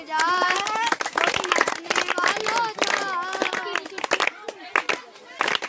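Children clap along in time while singing a devotional song in a hostel, with steady rhythmic hand claps under lively overlapping young voices throughout.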